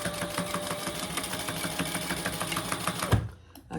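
A sewing machine runs steadily, stitching and back-stitching a seam on a shoulder bag, with a dense rapid chatter that stops abruptly near the end.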